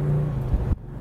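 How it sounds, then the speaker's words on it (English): A 1969 Dodge Super Bee muscle car's exhaust at half throttle gives a deep, steady rumble for about a second before cutting off abruptly. "That's only about half throttle. Doesn't that sound awesome?"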